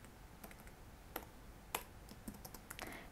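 Typing on a computer keyboard: a few separate, sparse keystroke clicks, quiet and close, with no voices.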